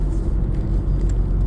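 Car traffic moves slowly along a road as a steady low rumble of passing vehicles, close and continuous, with no voices.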